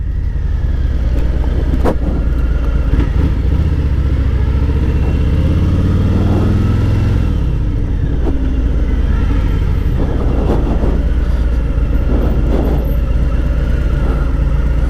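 A 2018 Harley-Davidson Fat Boy with the 114 engine rumbles loud and close, a deep throbbing exhaust that swells into a rising rev midway and then settles back to a steady pulsing roar.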